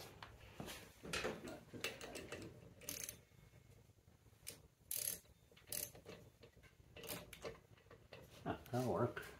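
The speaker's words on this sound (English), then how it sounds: "Now when we wrench on this, it'll pull the flywheel off of there." A hand wrench cranks a flywheel puller on a 1979 Vespa scooter, giving intermittent ratcheting clicks and metallic clanks in short bursts, fairly quiet and close, with people talking between the turns.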